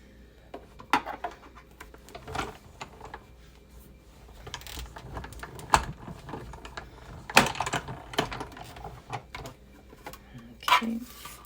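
Die-cutting machine working through paper during a craft project, giving off irregular mechanical clicks, ratcheting and grinding at close range with no talk over it.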